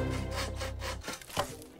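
An electric jigsaw cuts wood in the Italian-dubbed cartoon Bob the Builder, a steady buzzing rasp for about a second followed by a few shorter scraping strokes.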